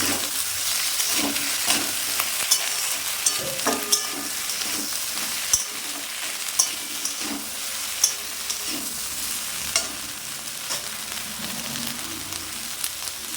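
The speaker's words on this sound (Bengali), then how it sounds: "কাঁচা লঙ্কা চেরা, আদা বাটা দিয়ে দিলাম, দিয়ে নেড়ে দিলাম" Parshe fish curry with slit green chilies and ginger paste sizzles steadily in the pan while a spoon stirs it, with scraping strokes and occasional clinks standing out over the constant crackle.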